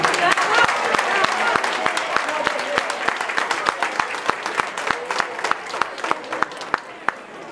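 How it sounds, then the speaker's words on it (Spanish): An audience at a march for peace and non-violence claps in rhythmic unison, sharp evenly spaced beats over a wash of crowd noise and voices that continue through the whole stretch. "Les pido un aplauso para Manuel García."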